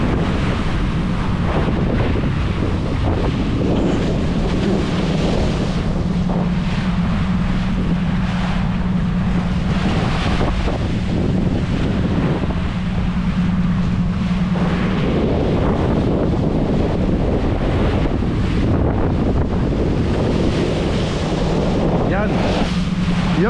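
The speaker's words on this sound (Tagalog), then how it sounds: "malakas ang hangin dito" Strong wind at sea roars continuously and loudly against the microphone aboard a fishing boat on the Pacific, with waves washing beneath it and voices faintly present in places.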